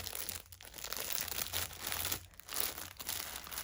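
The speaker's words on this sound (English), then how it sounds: "I do hate how crinkly their bags are" Crinkly plastic bags rustle and crunch close by in steady handling, with a few brief pauses between bursts of crinkling.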